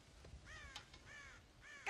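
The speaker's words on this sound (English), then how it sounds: "God damn crows!" Crows caw in Red Dead Redemption, about three harsh, drawn-out calls spaced across the moment, fairly faint and distant against quiet outdoor ambience, with no talking.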